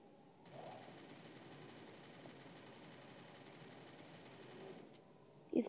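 Automatic gunfire in the Free Fire mobile game, a faint, continuous rapid rattle of shots held steady for several seconds, then stopping with a brief louder thump at the end.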